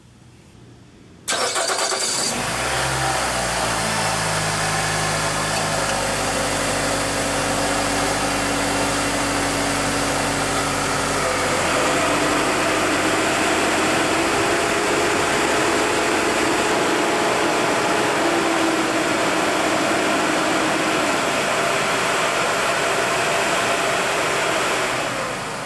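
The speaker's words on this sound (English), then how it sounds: "Let's start the car. So by now you guys know that this is the fan itself right back there." Car engine cranks and starts, then settles into a steady, loud idle with an electric oil cooler fan spinning behind it, an unbroken whirring drone lasting about twenty-five seconds.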